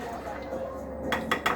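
A spoon stirring chocolate chip cookie dough in a bowl after water is added, giving a few quick clinks and scrapes against the bowl near the end of the moment.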